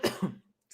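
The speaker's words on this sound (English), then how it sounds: "I'm about to cough." A man coughs twice in quick succession, close and fairly loud, the second cough softer and trailing off into a brief silence.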